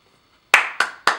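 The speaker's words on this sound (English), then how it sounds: "round of applause, okay?" Three sharp, close hand claps land in a steady rhythm after a moment of silence, each one crisp and loud with a short decay.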